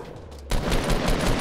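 Fortnite gunfire erupts halfway through as a quick burst of rapid shots from a green assault rifle, loud and close after a quieter moment.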